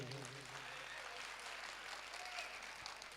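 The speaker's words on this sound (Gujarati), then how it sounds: "તમને નથી લાગતું એકવાર ફરીવાર જોરદાર તાળી થઈ જાય?" An audience claps steadily throughout at a school annual function, a dense wash of applause heard from within the crowd with no other sounds standing out.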